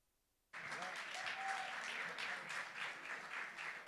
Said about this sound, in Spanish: recibir con un fuerte aplauso a Daniel Murga a este escenario